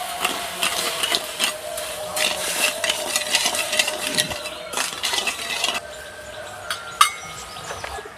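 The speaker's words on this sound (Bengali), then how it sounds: "চিনিটাকে ভালো করে নাড়াচাড়া করে গলিয়ে নেবো" A spoon stirring sugar and water in a pan to melt it, giving repeated scraping and light clinks against the metal, close and steady, with a faint hum beneath and a sharper clink near the end.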